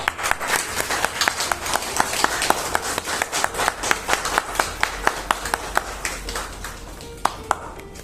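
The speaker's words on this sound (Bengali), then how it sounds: "জোরে একটা করতালি হয়ে যায়" An audience applauds as guests are called onstage at an event, with brisk, uneven clapping that thins into distinct individual claps, some sharp and close, toward the end.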